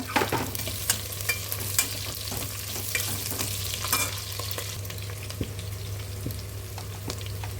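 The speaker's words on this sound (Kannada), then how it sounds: "ಸ್ವಲ್ಪ ಎಣ್ಣೆಯಲ್ಲಿ ಬಾಡಿಸ್ಕೊಳ್ಬೇಕು." Onions sautéing in oil in a pan for vegetarian biryani, a steady close sizzle with frequent light scraping and stirring taps over a low hum, no talk.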